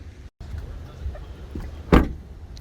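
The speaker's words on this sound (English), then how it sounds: "Door sounds pretty good." A GMC Canyon AT4 pickup truck door shuts with a single solid thump near the end, preceded by faint mechanical clicks and handling noises in a quiet cab.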